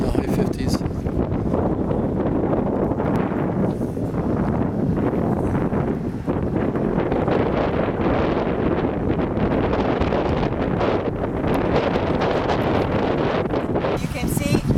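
Strong wind buffets the microphone steadily and loudly on a cool October day at an outdoor archaeological site on Crete, a constant roaring rumble that continues unbroken throughout.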